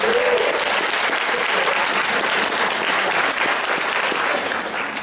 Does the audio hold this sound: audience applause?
yes